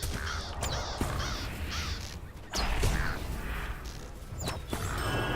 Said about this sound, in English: There's also the final crow over there.